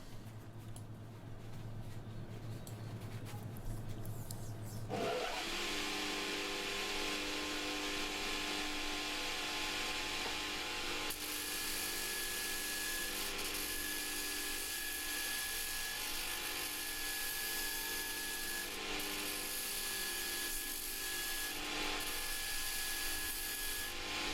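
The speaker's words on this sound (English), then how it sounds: "see if I can give it a grind up" A grinder starts up after a few seconds and keeps up a steady, harsh, high-pitched whine and rasp as it grinds a steel flypress weight, loud and close with a few small shifts in tone, and no talking.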